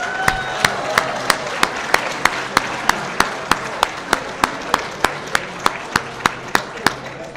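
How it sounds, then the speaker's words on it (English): Slow, steady single claps at a gala hall of champions ceremony, a sharp regular beat of roughly three claps a second over a soft crowd hum, no talking. "Let's offer Vern another round of applause."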